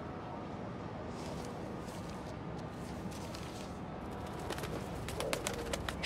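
Pigeon cooing in the video game Spider-Man Miles Morales, soft repeated coos over a steady ambient city bed, with faint chirps toward the end.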